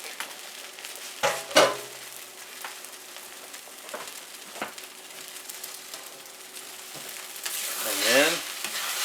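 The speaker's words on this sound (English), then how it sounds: "We're going to pour in our eggs. Now these are already hot, so they'll sizzle right up." Beaten eggs poured into a hot pan sizzle and crackle steadily at close range, with a few sharp clinks and scrapes of a utensil against the pan and a brief louder burst near the end.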